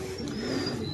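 A pigeon gives a short, soft coo close by, a brief low warbling call over faint background noise.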